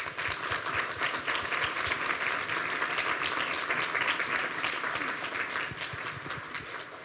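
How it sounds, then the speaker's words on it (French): An audience applauds donors at the closing ceremony of a major fundraising campaign, a steady, dense wash of clapping that stays loud and continuous throughout, with no voices over it. "J'aimerais qu'on les applaudisse"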